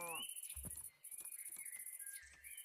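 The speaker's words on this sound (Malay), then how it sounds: "Aku tak suka bunyi burung ni." Birds chirp in a Minecraft-style modded video game, a steady stream of high, thin, rapid tweets repeating throughout, with faint game clicks and soft thuds underneath.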